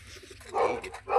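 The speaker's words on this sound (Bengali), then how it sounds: "এটা খুবই পুরনো জেনারেশনের পায়রা বন্ধুরা" Old-generation Giribaz pigeons coo in a couple of short, throaty bursts close by, over a low steady hum, with no talk.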